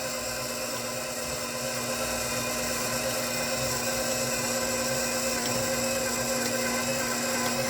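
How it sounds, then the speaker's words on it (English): A mixer running steadily in low gear, giving a continuous droning mechanical whir with a constant pitch and level throughout, fairly loud and close, with no talking. "now we're going to roll our mixer up. We're going to start on low gear, just to let it all start taking up and coming together"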